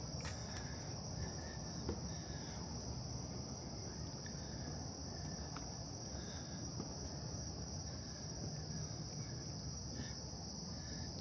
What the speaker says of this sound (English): All I can hear is the crickets.